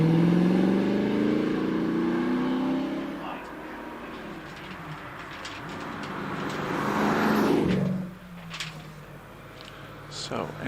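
A TVR Griffith 5-litre racing up a hill climb, its loud engine revving and changing pitch as it accelerates and passes, fading then rising again, under a commentator's voice.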